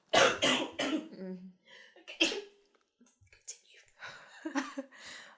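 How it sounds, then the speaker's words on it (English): A woman coughs several times in short bursts, with throat clearing and breathy pauses between, close and fairly loud. "Oh, let her cough."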